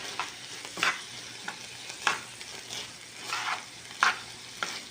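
Cream cheese is stirred into drained corn, with repeated wet scraping and squishing strokes at an irregular pace over a soft background hiss, close and moderately loud.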